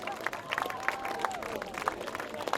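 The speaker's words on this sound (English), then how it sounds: "a big round of applause for Mr. Charlie Newlands" Scattered applause from a crowd at a horse riding show, with sharp irregular claps rising over a steady murmur and tonal background, moderately loud throughout.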